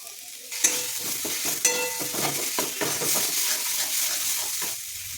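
Spiced fish head masala with turmeric, salt and red chilli powder is stirred and sautéed in a pan. A spatula scrapes repeatedly in a quick, uneven rhythm over a constant close sizzle, and the occasional metallic clink sounds against the pan.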